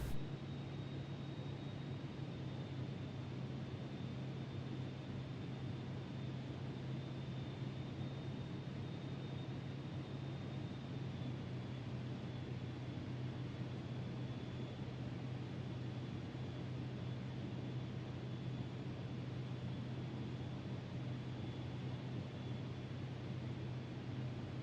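A jet aircraft engine in a flight simulator game gives a steady, unbroken roar with a constant low hum and a faint high whine that runs without pause.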